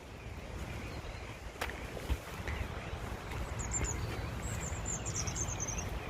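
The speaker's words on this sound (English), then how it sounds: "And you can hear bird song." Faint, high bird chirps and short trills in the distance over a low, steady outdoor rumble at a wetland with lily pads, with no voices.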